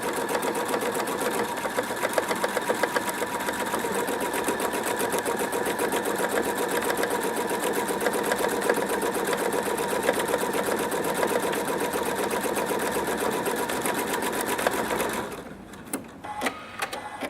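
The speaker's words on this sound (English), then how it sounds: "Now the machine will do a reinforcing stitch backwards and the first bar forward" A Pfaff Quilt Expression 4.2 sewing machine stitching a buttonhole, a loud, fast, even mechanical whir of rapid needle strokes that runs steadily for about fifteen seconds before stopping, leaving a few soft clicks.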